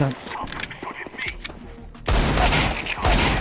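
Counter-Strike 2 gunfire rings out in close bursts of shots, sparse at first and then a dense rapid volley that dominates, with a voice speaking over part of it.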